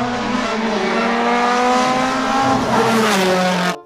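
A toy race car gives off a loud, steady electronic engine roar with a rising whine, like revving and tyre squeal, played close up with nobody speaking, then stops sharply.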